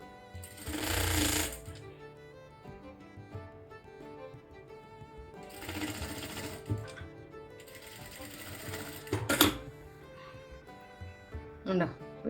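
A sewing machine stitches a kurti collar in three loud rattling runs of a few seconds each, up close, with a voice speaking between the runs.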